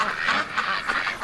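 A broken-winged duck quacks in a quick series of raspy, nasal calls at close range, with no other sounds around them.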